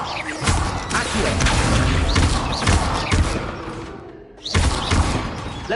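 Accio summoning spells go off in Hogwarts Legacy, each one a dense burst of magical whooshes and thuds. They come in quick succession, with a short lull before another cast.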